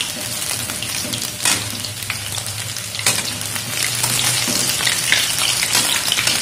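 Pempek, Palembang fish cakes, frying in hot oil, a loud continuous crackling sizzle like rain on a surface, with a couple of brief louder bursts and no talk.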